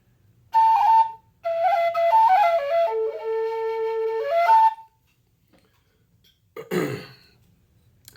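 Alto A tin whistle played high in its third octave: clear, piercing held notes forming a short stepping melody, followed by a pause and a brief breathy sound near the end.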